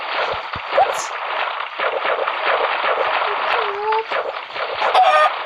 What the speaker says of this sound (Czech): Tady jsou slepičky.